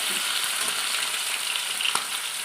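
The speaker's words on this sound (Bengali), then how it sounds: "এবার আমি এর মধ্যে চিংড়ি মাছটাও দিয়ে দিচ্ছি" Shrimp frying in a pan with coconut, giving a steady broadband sizzle throughout with a faint scrape near the end, no voices.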